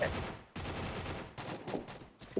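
Rapid automatic gunfire in the mobile shooter game Free Fire, heard in dense bursts separated by short gaps, fairly loud and up front.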